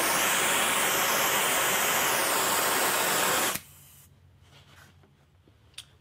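A gas torch roars steadily and loudly while heating a metal lathe nut for silver soldering, then cuts off abruptly, leaving quiet workshop background with a faint clink near the end.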